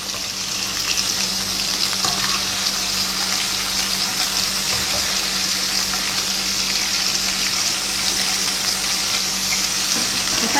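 Pangasius fish frying in a generous amount of hot oil gives a steady, loud, continuous sizzle and crackle, holding constant throughout with no voices.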